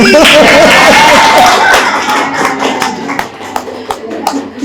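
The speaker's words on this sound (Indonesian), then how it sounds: "Tepuk tangan lagi." Loud talk and a burst of voices fade into scattered claps and taps from a small crowd, the applause thinning toward the end.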